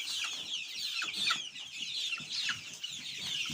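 Chickens in a backyard coop cluck and chatter continuously, with several birds calling close by at a steady, busy level and no talk over them.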